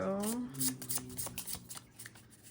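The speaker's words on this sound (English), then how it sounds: "we are going to pull a few cards for you." Tarot cards are shuffled close by in a quick run of crisp riffling flutters, while a voice carries over the start.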